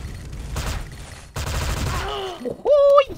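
Rapid automatic gunfire from a Kris SV-CRB in a shooter video game, dense bursts in two stretches before a pause, with loud game sound effects at the end.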